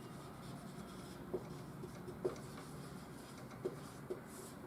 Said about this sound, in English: I'll write it here.